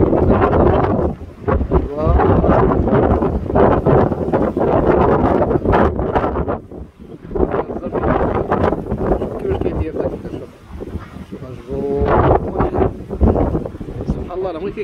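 Strong coastal wind at Al Hoceima, Morocco, buffets the microphone in loud continuous gusts, with brief lulls and someone talking over it throughout.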